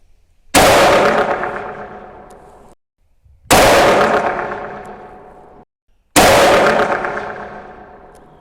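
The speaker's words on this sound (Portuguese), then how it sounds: "eu dei 3 disparos porque o cano está frio" Three loud rifle shots from a cold barrel, each a sharp blast with a long decaying echo, spaced a few seconds apart with no talking.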